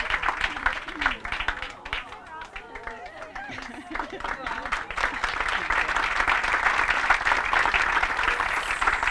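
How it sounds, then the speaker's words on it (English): An audience at a 20th anniversary celebration breaks into applause, dense clapping that grows fuller and steadier toward the end, with a voice speaking over the start. "One more round of applause for Sherry."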